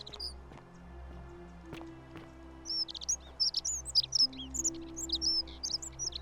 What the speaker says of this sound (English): Birds, you are so loud.